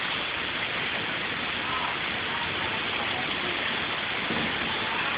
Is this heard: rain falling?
yes